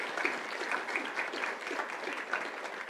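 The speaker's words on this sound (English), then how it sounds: "give one more big round of applause to Mr. Salch and the students" An audience claps together for Mr. Salch and his students at a school district governing board meeting; the applause is dense and sustained, steady throughout at moderate volume with no voices on top.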